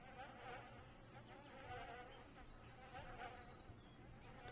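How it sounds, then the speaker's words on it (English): Faint, continuous buzzing of bees flying around in the video game The Town of Light, a low droning hum with brief higher whines drifting in and out. "You can hear bees flying around."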